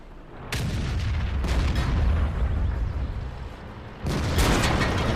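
Tank cannon fire in World of Tanks from an IS-8 heavy tank: loud, heavy booming blasts with a sustained rumbling roar, one shot near the start and another strong blast toward the end.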